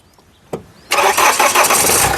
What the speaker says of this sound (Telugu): సింగిల్ సెల్ఫ్లో కాల్ స్టార్ట్ అవుతుంది ఎటువంటి స్టార్టింగ్ ట్రబుల్ అయితే లేదండి